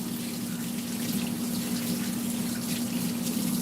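Tap water runs steadily into a sink as hands are washed during pork rotisserie-style cooking prep, a constant close gushing stream with no talk over it.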